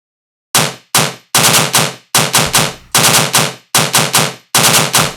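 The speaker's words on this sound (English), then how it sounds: "this time we're coming with the machine gun bass" Tearout-style machine gun bass synth fires loud, distorted rapid bursts in grouped stuttering volleys separated by short gaps, harsh and full-range, played alone without talk.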